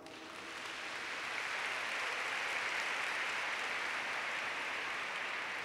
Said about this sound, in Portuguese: Aplauda essa palavra.